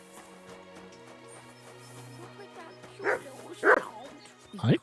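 A dog in the Kingdom Come: Deliverance II video game gives a few sharp barks and yips in the second half, over a quiet musical background.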